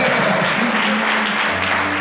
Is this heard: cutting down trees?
no